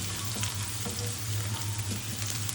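Onions for a goat curry fry in mustard oil while being stirred slowly, giving a steady close sizzle with soft scraping under it and no talk.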